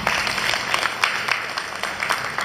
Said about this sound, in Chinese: 我们一起掌声欢迎